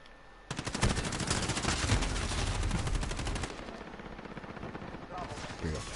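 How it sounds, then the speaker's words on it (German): Rapid bursts of gunfire in Call of Duty: Modern Warfare on the Shipment map rattle loudly for several seconds, automatic fire fading and then picking up again in short shots. "von wo die Schüsse überall gekommen sind"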